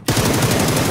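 A loud, close burst of PUBG automatic fire rattles in a fast, continuous string of shots for about a second.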